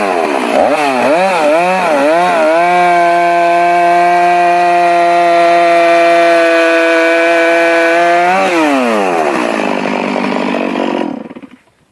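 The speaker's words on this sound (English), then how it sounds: "He started the steel MS-460 chainsaw, the roar of the engine reverberating in the quiet space." A Stihl MS-460 chainsaw revs hard, then holds a loud, steady high-pitched whine while cutting deep into a huge tree trunk in a forest, its pitch sagging near the end before the engine suddenly cuts out.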